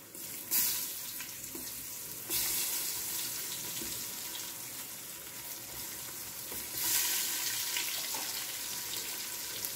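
Whole spices, turmeric and chopped tomato fry in a pan for aloo matar pulao, a steady close sizzle with louder crackling bursts as pieces are added and stirred.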